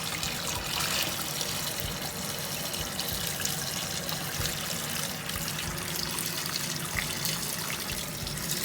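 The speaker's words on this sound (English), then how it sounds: "And then you're just going to pour a little bit of water over on it." Water running steadily over raw meat soaking in vinegar in a kitchen, a continuous close trickling and splashing stream with no talk.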